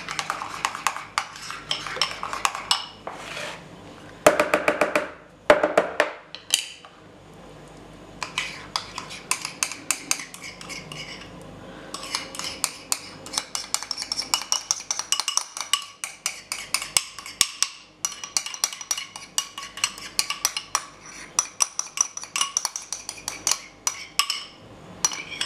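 A spoon scraping and clinking against a dish while stirring dinner ingredients, including parsley and olive oil, in repeated close, busy strokes with short pauses and no talking.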